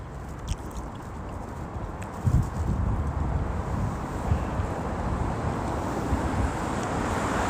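Wind gusts of about 12 mph in below-freezing cold buffet the microphone, producing a continuous low rumble with a few louder thumps.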